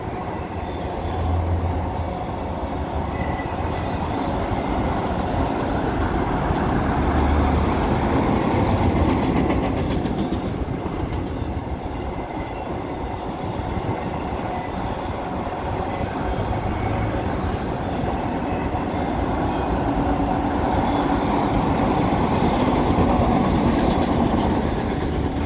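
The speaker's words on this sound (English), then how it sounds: "There's some auto racks heading back empty." A long freight train hauling empty auto racks rolls steadily past on a Canadian track, a continuous loud rumble with rhythmic clickety-clack of wheels over rail joints and no talking.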